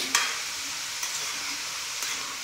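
Carrots sauté in ghee over a high flame for carrot halwa, giving a soft, steady sizzle with a few sharp stirring scrapes near the start, midway and near the end, and no talking.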